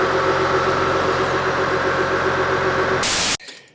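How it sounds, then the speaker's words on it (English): A narrowboat's onboard engine runs in a steady, loud drone with a constant hum throughout. It cuts off abruptly near the end, leaving a brief quieter tail. "we are looking into sort of dampening the sound of the engine"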